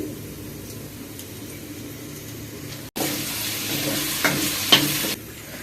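Cashew lentil curry frying in a pan, a quiet low sizzle that gives way after a brief cut to louder stirring and scraping with a few knocks of the spoon.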